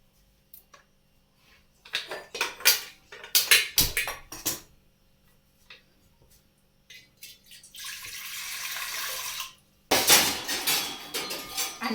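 Clanking of metal pots and utensils as a pot of water is set on a stove for steaming dhokla, several sharp knocks and scrapes, then a short run of pouring water and a louder clatter near the end.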